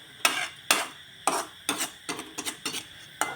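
A spoon scrapes and stirs masala in a cooking pot on the gas, giving a steady series of close, scraping knocks at an uneven rhythm with no talk.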